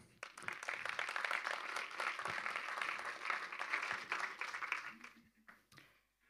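Audience applauding as a presenter named Sophie comes onto the stage at a French awards event for top advertisers of 2024, a dense, steady burst of clapping that fades out toward the end, with talk faintly underneath.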